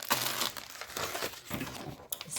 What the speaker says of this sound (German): Ich werde mal alles auspacken.